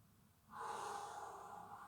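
A deep nasal inhalation during a yoga breathing exercise, one close, soft, sustained breath in after a brief quiet start, no talking.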